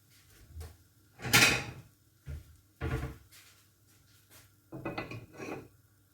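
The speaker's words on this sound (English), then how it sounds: "So I'll just get a plate." Plate being taken from a kitchen cupboard during pancake making: a few separate knocks and clatters of a cupboard door and crockery at close range, spaced over several seconds with quiet gaps between.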